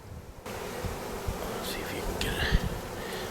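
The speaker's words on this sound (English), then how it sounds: "Bees crawling up my legs." Bees buzz steadily at an open beehive in cold weather, a dense close hum that starts abruptly and continues alone without talk.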